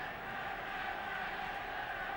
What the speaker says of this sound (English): Home crowd trying to lift their team.